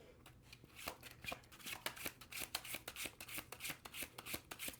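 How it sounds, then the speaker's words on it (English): Tarot cards being shuffled by hand, a quick run of crisp riffling flicks and taps in an uneven rhythm, close and fairly quiet with no talking. "we'll finish the shuffle"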